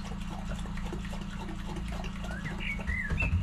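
Water pours from a watering can onto a driveway or patio with poor drainage, a steady splashing flow over a constant low mechanical hum that swells slightly toward the end.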